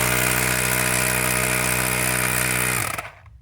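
A small electric air pump runs with a steady motorized hum and strong low drone, loud and even for about three seconds, then cuts off and winds down abruptly.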